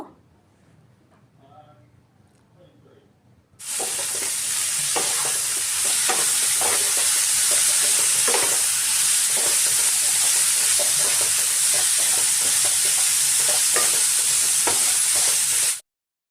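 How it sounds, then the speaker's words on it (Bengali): Cabbage and carrot strips hit a hot pan for a chaumin dish and break into loud, steady sizzling and hissing that continue for about twelve seconds, with scraping stirring clicks throughout. "বাঁধাকপি গাজরটাকে একটুক্ষণ নাড়িয়ে নিয়ে"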